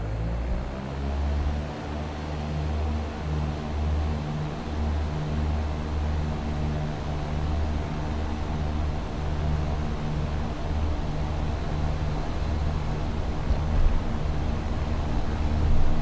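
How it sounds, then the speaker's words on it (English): A Cessna 172 on its takeoff roll out of Dublin Airport in the X-Plane flight simulator, a steady droning propeller engine hum that holds and slowly builds in intensity over a continuous noisy rumble, with no voices. "we're going to be departing Dublin Airport aboard the Cessna 172 for a short VFR flight"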